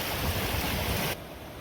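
Creek water rushes past a slate rock on off-grid wilderness land in winter: a close, steady, dense wash that drops abruptly to a quieter flow partway through.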